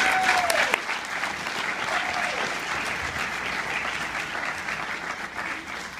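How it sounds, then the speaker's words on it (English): A cinema audience at a Q&A applauding a filmmaker, dense sustained clapping from a full room that carries on steadily and eases slightly toward the end. "Let's have a round of applause for our filmmaker."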